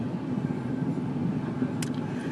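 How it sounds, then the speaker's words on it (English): A freight train passing at a road intersection crossing, heard as a steady low rumble of rolling wagons from inside a waiting vehicle, with a brief sharp click near the end. "Yep, you see it, the goddamn train."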